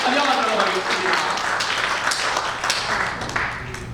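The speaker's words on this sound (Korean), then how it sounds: "크게 박수 한번" A church congregation at a Sunday service claps together in warm, continuous applause that fills the room for several seconds and slowly thins out.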